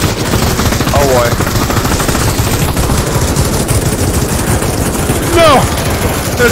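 Loud, sustained automatic gunfire from the VR shooter Pavlov VR during a zombie mode, with dense rapid bursts filling the whole stretch and brief whooshing sweeps cutting through.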